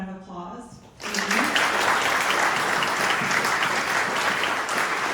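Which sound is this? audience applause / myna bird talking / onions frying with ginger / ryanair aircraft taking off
audience applause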